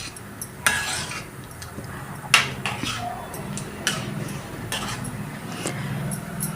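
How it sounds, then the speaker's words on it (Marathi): Ground peanut powder is stirred into okra in a pan, steady soft scraping with several sharp utensil clinks against the pan, close and moderately loud, no talking. "हे दाण्याचं कूट ह्याला हलवून घ्यायचं आहे"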